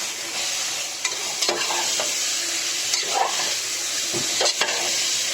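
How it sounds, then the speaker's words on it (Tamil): Marinated chicken for biryani being stirred in a hot pan, a steady sizzle under repeated scraping strokes of a spoon, close and fairly loud, with no voices. "நல்லா கிண்டிக்கலாம்."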